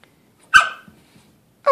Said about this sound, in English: Oh, you're such a good doggy.